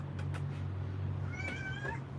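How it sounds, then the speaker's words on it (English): A pet cat meows indoors: one drawn-out, rising and falling meow, clear but not loud, against a steady low background hum. "Oh, kitty."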